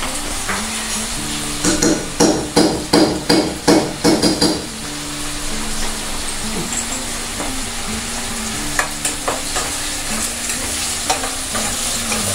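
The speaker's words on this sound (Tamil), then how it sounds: "நல்லா வதக்கிக்கோங்க. சின்ன வெங்காயம் வந்து நல்லா வதங்கி வரணும்." Chopped small onions and garlic sautéing in a pan, with a steady sizzle under a run of quick, rhythmic spoon scrapes and taps against the pan, followed by a few scattered clinks.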